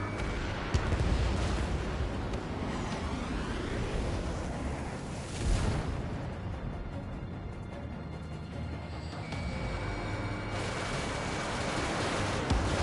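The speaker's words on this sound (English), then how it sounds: "The harbor's under heavy fire!" Heavy explosions and gunfire rumble across a harbor under attack in the Ace Combat flight game, a continuous roaring barrage with louder blasts near the start and middle, no voices.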